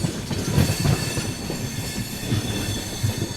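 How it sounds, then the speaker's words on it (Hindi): An Amritsar–CSMT express train passes close by while overtaking, its wheels rumbling and clattering in a rhythmic clickety-clack with faint squeals over the steady roll of the carriages. "अमृतसर CSMT का ओवरटेक यहाँ पे हो रहा है।"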